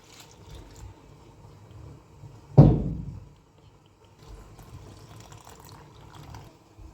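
Risen yeast liquid is poured into flour for soft baursak dough, one brief splashing pour midway through an otherwise quiet kitchen.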